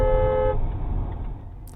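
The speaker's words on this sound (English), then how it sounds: "driving over them and then blasting the horn" A car horn sounds once in a short blast at a mini roundabout, then cuts off, leaving the steady low rumble of the car's engine and road noise.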